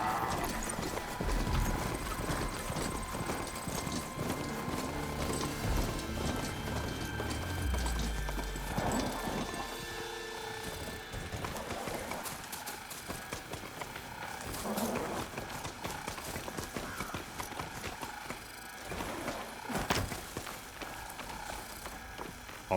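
Galloping mount in Horizon Forbidden West, a steady run of hoof clip-clops with occasional whinnies, layered over a dense game soundscape of music and ambience throughout.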